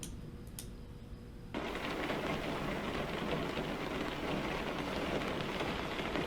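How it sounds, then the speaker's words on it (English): Rain in American Truck Simulator starts abruptly after a quieter stretch, becoming a steady, dense patter of rain on the truck that holds loud and even to the end. "It's just about our luck. About a rainstorm."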